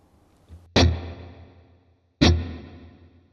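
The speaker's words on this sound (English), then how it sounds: "Let's just go for hall reverb." Two sharp plucked guitar notes through a Valeton GP-200 hall reverb, each ringing out into a long, spacious hall reverb tail that slowly fades.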